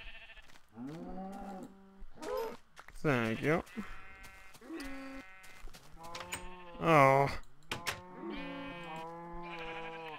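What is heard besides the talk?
sheep bleating in a video game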